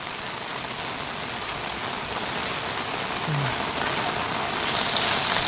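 Steady rain falls outdoors in a continuous, dense hiss of drops hitting surfaces, fairly loud and unbroken throughout, with no voices.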